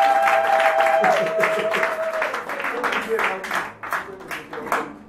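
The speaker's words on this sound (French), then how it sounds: "Donnons des acclamations à Jésus." A church congregation claps and cheers loudly, dense applause with voices mixed in, while a speaker's voice carries over the top at first before the clapping thins into scattered claps.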